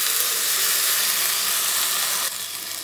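Water poured into a hot pan of spices while cooking matar paneer, giving a loud, steady hissing sizzle that drops abruptly in level near the end, with no talk.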